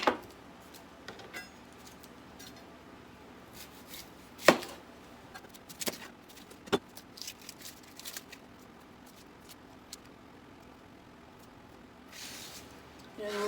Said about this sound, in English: And now we'll chop up some onions.